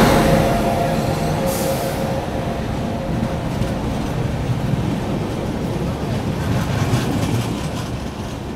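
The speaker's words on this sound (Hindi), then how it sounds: "पुरुषोत्तम एक्सप्रेस को पहले ही स्तर पे सिग्नल दे दिया गया है और ये निकल रही है" The Purushottam Express pulls out on the main line, a steady loud rumble of wheels and coaches rolling past close by.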